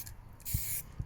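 A spray can hisses in a single sustained burst of about a third of a second over a stencil, close and fairly loud, with soft low thumps before and after.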